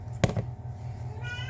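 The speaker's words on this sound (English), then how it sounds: "And the kitty wants to talk as well, apparently." A house cat meows in a kitchen during casserole preparation, two short calls close to the microphone over a steady low hum.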